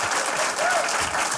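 Studio audience at a TV comedy show applauding, dense even clapping from a large crowd, loud and sustained, with a faint whistle rising briefly over it.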